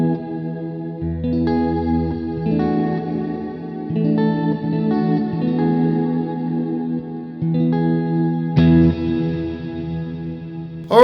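Walrus Audio Slöer reverb pedal set to wide stereo width, washing sustained guitar chords into a lush, shimmering wash with a chorus-like swirl, the chords changing every couple of seconds over a steady, loud bed with no talking.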